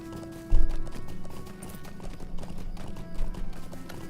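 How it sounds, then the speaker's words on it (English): Horse hooves clip-clop steadily while riding along the eaves of the Old Forest in The Lord of the Rings Online, a rhythmic close trot with a brief louder thump near the start over ambient game music. "We're riding a horse."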